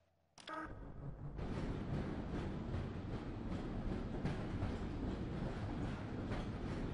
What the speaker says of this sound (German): ich setze mich eben auf den Zug